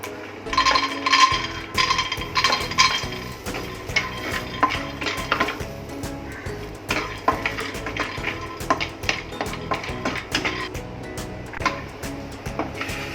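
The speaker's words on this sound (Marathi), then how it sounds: "आपण आता शेंगदाणे आहेत हे भाजून घेऊया" Peanuts are dry-roasted in a pan for an eggplant-potato curry, giving steady close scraping and rattling as the spoon stirs them, with soft clinks of the utensil and no talking.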